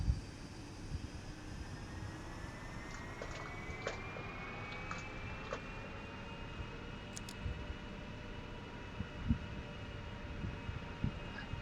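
Boeing 777 jet engines spooling up in a flight simulator game at Boston, a faint steady whine that slowly rises in pitch over a low rumbling hum, with occasional soft clicks and no talking.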